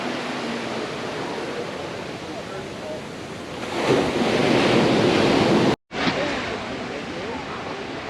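Rough ocean surf breaks against rocks beside a beach resort in Puerto Vallarta, a steady roar of crashing water with wind buffeting the microphone, swelling louder midway before a brief dropout.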